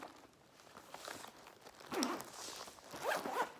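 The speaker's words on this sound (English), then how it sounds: "I zip them all up and they go like this into my little kit" Two quick, close zips ring out as a small travel kit pouch is closed, a short rasp followed by a second brisk pull, alone against quiet room background with faint handling rustle.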